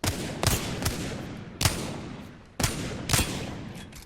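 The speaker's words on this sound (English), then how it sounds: "Why I don't recommend the Wingman. 6 shots." Heavy pistol shots from the Wingman revolver in Apex Legends, about six sharp reports at uneven intervals, each with a booming tail over constant game ambience and no talk.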